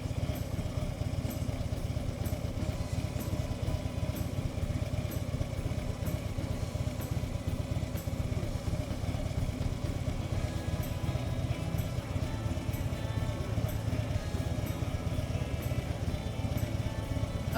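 A motorcycle engine in first gear is held at about 2,000 rpm, a steady close mid-pitched drone with an even pulsing rhythm, with no talk over it.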